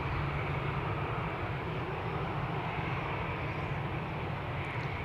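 Qatar Airways airliner on departure at Amsterdam Schiphol Airport, a steady broadband jet roar with a low rumble, continuous and fairly distant, no voices over it.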